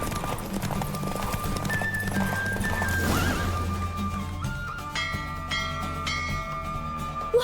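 A galloping horse in The Witcher 3: Wild Hunt keeps up a steady clip-clop of hooves and neighs loudly, with music and faint bell-like tones layered over it.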